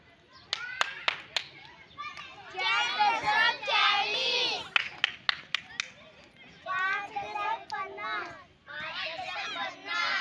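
Sharp single hand claps ring out in bursts during a children's counting game, each clap a loud crack, mixed with children's lively voices and talk between the groups of claps.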